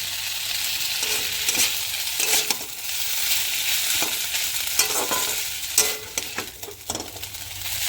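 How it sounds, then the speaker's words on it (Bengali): Potato chowmein noodles fry and sizzle in oil while a spatula stirs them, scraping and tapping against the pan at close range in irregular bursts over a constant hiss. "ভালো করে চাউমিনটা আমি নাড়া দিয়ে নিলাম দিয়ে চাউমিনটা আমি দু তিন মিনিট একটু হালকা করে ভেজে নেব"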